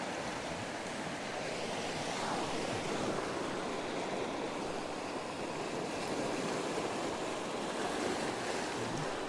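Ocean surf rolls in steadily under a stormy sky, a broad continuous wash of breaking waves with some wind noise, loud and close, with no voices.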